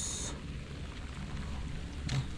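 Steady soft patter of light drizzle falling on a chili garden, a continuous fine hiss with no other sounds.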